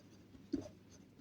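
A single short scratch of a pen or marker being written during a math lesson on arithmetic sequences, one brief stroke burst in an otherwise quiet room.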